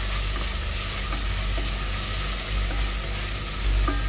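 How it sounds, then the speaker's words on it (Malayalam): Onions sautéing in a pan for chicken curry, a steady close sizzle with occasional stirring scrapes, no talking. "ഉള്ളിയാണ് നല്ല വഴണ്ടി വരുന്നതിൻ്റെ ഇത് കാണാം."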